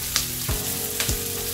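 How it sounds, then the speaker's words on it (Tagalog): Onions browning in a hot pan for a stir fry, a steady loud sizzle and crackle with two soft scraping stirs, close up and with no talking. "mag-brown na yung sibuyas natin guys"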